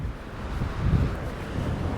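Strong wind gusts by the sea where waves strike a breakwater, a loud low roar buffeting the microphone and swelling midway.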